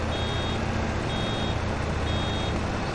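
A vehicle's warning beeper in Farming Simulator 25 repeats in even pulses over a loud, steady engine drone, with no speech.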